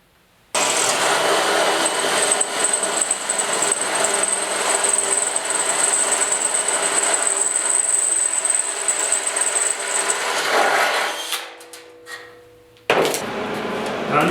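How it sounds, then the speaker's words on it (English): A power drill whines steadily and loudly for about ten seconds while drilling a hole in sheet metal on a 1969 Ford Bronco quarter panel, then winds down, pauses briefly, and starts up again at the end. "So what I'm going to do is just drill a hole right here."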